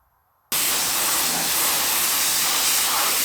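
After a brief quiet start, a pressure washer's loud, steady hissing spray kicks in abruptly and continues without letup, close and harsh, while cleaning a 1950 DeSoto.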